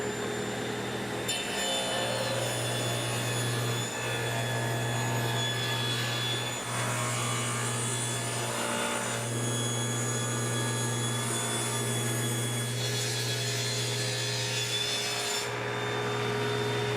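A hand saw cuts through wood in steady back-and-forth rasping strokes, close and continuous, with a low hum underneath.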